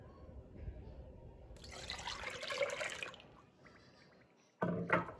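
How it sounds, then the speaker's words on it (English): Milk is poured into a saucepan of sugar and egg yolks for banana pudding, a soft liquid trickle that builds and fades over a couple of seconds. Faint kitchen clatter follows, ending in a sharper clink. "I'll be putting 1 cup of sugar, 4 cups of milk"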